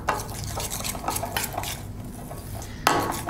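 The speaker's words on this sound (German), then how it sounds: "Dann wird die Butter mit dem Puderzucker verrührt, sodass eine homogene Masse entsteht." Butter and powdered sugar being stirred with a whisk in a bowl, rhythmic scraping and clinking against the sides, close and steady, with a sharper knock near the end.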